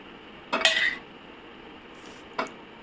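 Spoons and dishes clink while food is served: one short clatter and then a second, lighter clink, both faint and close, with no talking.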